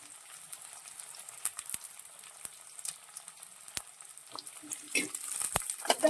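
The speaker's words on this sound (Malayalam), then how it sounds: "ഇതിലേക്ക് നമ്മൾ ചെറുള്ളി പച്ചമുളകും കൂടി ചേർക്കുവാണേ" Shallots and green chillies sauté in a pan with a light crackling sizzle, scattered sharp pops and spatters growing busier toward the end.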